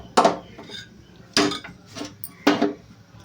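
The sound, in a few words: placing a cooking pot on the gas stove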